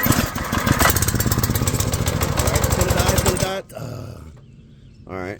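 A pressure washer's small engine cold starts after a pull of the cord, sputtering into a loud, rapid chugging run for several seconds, then dropping away to near quiet before a short rough burst at the end.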